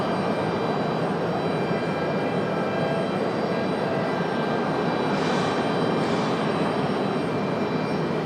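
An Icelandair jet at Raleigh-Durham International Airport gives a steady, distant engine roar that holds evenly throughout, heard alone on a Fourth of July evening.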